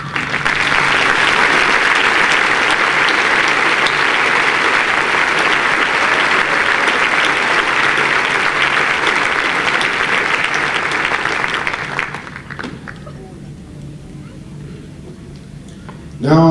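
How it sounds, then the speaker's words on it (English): A commencement audience at Upper Iowa University applauds the faculty in one long, loud, dense burst of clapping that lasts about twelve seconds, then fades to scattered claps and quiet. "I'm asking all of you to join me in applauding them for the fine education they have"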